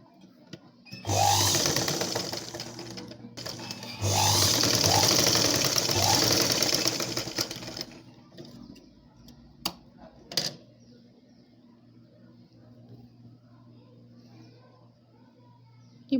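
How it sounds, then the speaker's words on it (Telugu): A sewing machine stitches blouse fabric in two bursts of fast, rattling whirring, running forward and back at close range, followed by a few isolated clicks and a quiet room. "ఎండింగ్ ఎప్పుడు కూడా మనం ఈ విధంగా వెనక్కి ముందుకి ఈ విధంగా స్టిచ్చింగ్ చేసుకోవాలి"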